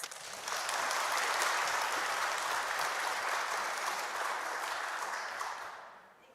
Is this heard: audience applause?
yes